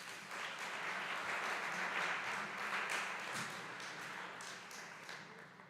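Audience applause at a high school academic awards ceremony in 2023 as scholastic letter recipients are named, a steady broad wash of many hands clapping throughout, fading slightly toward the end.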